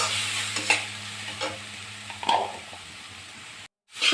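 Masala with Kashmiri red chili powder frying in a pan, a close crackling sizzle broken by scraping spoon strokes at an irregular pace, cutting off abruptly near the end.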